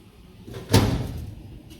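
A heavy pull door on a solid wheeled storage cabinet swings with a single muffled thud near the middle, then a short rumbling resonance dies away.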